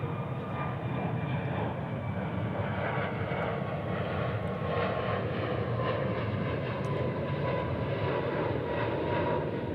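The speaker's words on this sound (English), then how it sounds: "Check out this A321 landing." An Airbus A321 jet airliner lands at Dallas/Fort Worth International Airport, giving a steady, broad engine roar that holds loud and even for the whole stretch, with no voices over it.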